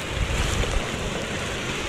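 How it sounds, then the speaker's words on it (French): Steady, dense hiss of heavy rain mixed with gusty wind noise, continuous and close, with no voices, at Plitvice in Croatia. "par contre il pleut toujours autant"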